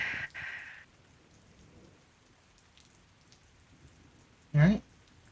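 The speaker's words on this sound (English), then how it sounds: "just sit outside under a tree and just listen to the rain again." Ambient rain falls as a faint, steady patter through the stretch, with a couple of short louder bursts near the start and near the end.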